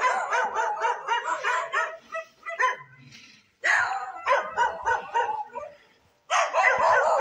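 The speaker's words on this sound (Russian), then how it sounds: "Ой, тут такой собачий лай." A dog barks loudly and close by in a residential street beside apartment houses, firing off quick runs of barks and yips in several bursts separated by short pauses.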